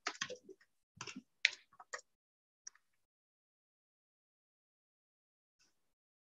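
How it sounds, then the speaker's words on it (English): Keys tapped on a computer keyboard, with a cluster of quick clicks in the first two seconds, then a couple of isolated taps before the sound fades to near silence. "so I am just typing it out."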